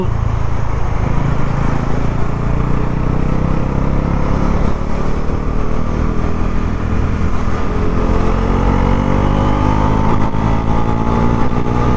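A motorcycle being ridden, its engine droning steadily and loudly throughout with a continuous low rumble and wind noise, no talking.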